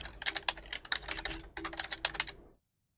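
Rapid, uneven bursts of keystrokes on a computer keyboard while entering a call sign into flight-planning software for a TBM900 flight sim, close and clear, stopping abruptly near the end.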